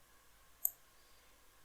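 A single crisp computer mouse click while confirming a step in an online income tax return form, sharp and brief in an otherwise quiet room.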